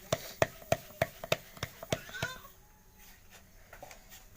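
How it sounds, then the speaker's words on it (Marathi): Hands pat dhapata flatbread dough flat in a home kitchen, a close series of sharp rhythmic slaps about every third of a second, then fading to softer, sparser pats. "तर आता आपण धपाटं थापायला सुरुवात करू।"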